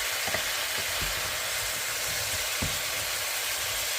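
Carrots, artichoke and potatoes frying in a pot, a steady close sizzle with occasional soft knocks and scrapes as the vegetables are stirred.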